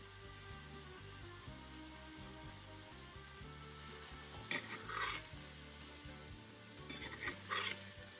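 Beef chunks brown in tallow in a skillet with a quiet, steady sizzle under a low background hum. Occasional scraping and stirring movements punctuate it, and no one speaks.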